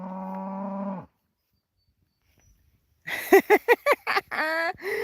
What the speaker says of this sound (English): It is fun to moo at cows, especially when they all moo back at you.